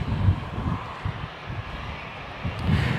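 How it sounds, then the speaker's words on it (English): A Virgin Australia airliner departs Gold Coast Airport, its jet engines giving a steady, distant low rumble with gentle swells, blended with outdoor wind noise. "All right, so we've got a Virgin now departing."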